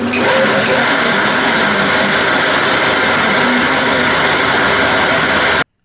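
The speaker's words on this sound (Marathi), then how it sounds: "मिक्सरमधनं त्याची बारीक अशी पेस्ट बनवून घ्यायची" A mixer grinder's steady, loud motor whirr with grinding noise runs without a break for several seconds as it blends soaked rice into fine paste, then cuts off abruptly.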